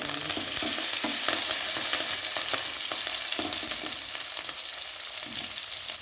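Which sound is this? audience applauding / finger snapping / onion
onion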